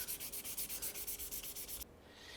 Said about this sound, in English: Now we're going to progress to 1500 grit, and this is where our polish really begins.